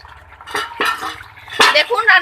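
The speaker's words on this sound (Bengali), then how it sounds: "তো এখন ঢাকনাটা খুলে দিচ্ছি" A lid is lifted off a pot of fish curry cooked with spinach (palong shak), giving a few close metallic clinks and knocks, with a voice over it.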